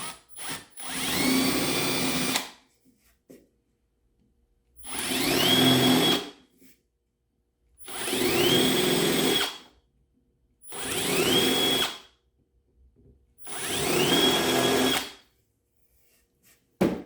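Power drill widening holes in wood pieces, five bursts of steady high whining, each lasting about two seconds, separated by brief silences, close and alone.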